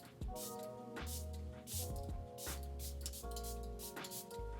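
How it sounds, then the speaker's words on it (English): Charlotte Tilbury Flawless Airbrush setting spray is spritzed in a few short, airy hissing bursts, fairly close, over steady background music. "I'm using my Flawless Airbrush Setting Spray by Charlotte Tilbury"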